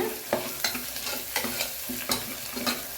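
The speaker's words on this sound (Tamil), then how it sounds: "இஞ்சி பூண்டு நல்லா டீப்பாக ஃப்ரை ஆகணும் இந்த ஆயிலேயே" Ginger and garlic fry in oil for veg pulao with a steady close sizzle, broken by several sharp clattering stirs of a utensil against the pan at irregular intervals.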